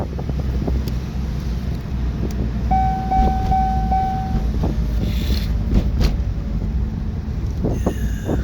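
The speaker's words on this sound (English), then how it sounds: "The turbo spools up real good." A car with a 2-liter turbo engine and 5-speed manual transmission, driving with a steady engine and road rumble under buffeting wind noise, and a brief whistling turbo spool partway through.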